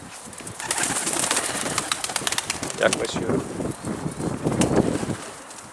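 Wild pigeons coo and flutter around a rooftop loft, soft repeated calls and wingbeats close by, while someone speaks intermittently over them.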